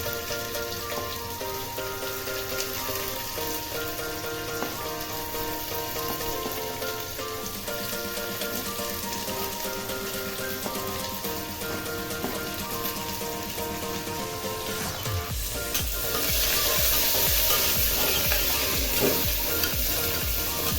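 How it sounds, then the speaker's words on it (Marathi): Finely chopped onion fries in a pan with a continuous close sizzle and occasional stirring, growing noticeably louder and hissier toward the end; no one speaks. "कांदा फक्त थोडासा पिंक होऊन द्यायचा आहे आपला. थोडासा पिंक होईपर्यंतच परतायचा आहे."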